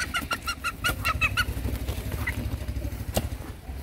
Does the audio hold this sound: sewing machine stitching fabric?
no